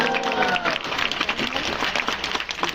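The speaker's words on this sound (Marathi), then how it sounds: "अशी खणखणी टाळी ऐकली ना की आम्हाला लगेच कळतं नाटकाचा प्रयोग दादर मध्ये चालू आहे" A theatre audience in Dadar applauds loudly for a comedy play, a dense, steady clatter of many hands clapping close by, with some voices mixed in at the start.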